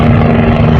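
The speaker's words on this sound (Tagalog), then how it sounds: "Ayan po, may helicopter pa." A helicopter passes over Manila Bay near mussel long-line farms, its loud, steady low rotor drone and engine roar filling the short stretch without any break.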